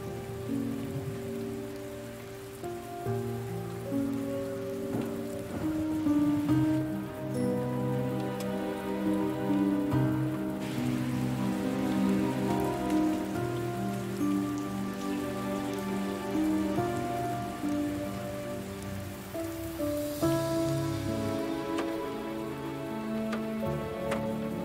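Steady rain falls on a surface, a continuous even patter that lasts about twenty-five seconds with no voices over it.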